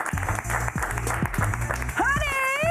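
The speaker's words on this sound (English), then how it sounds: "let's give a big round of applause to Honey Blue." A studio audience on a late-night talk show applauds steadily to welcome a spoken word artist, the clapping carried over a rhythmic music beat, with a high whooping cheer rising near the end.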